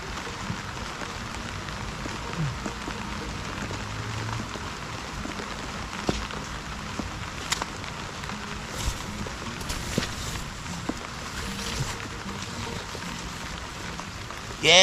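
Heavy typhoon rain pours steadily on surfaces around a squash garden, a dense continuous hiss broken by occasional louder drops and splashes, with no voices over it.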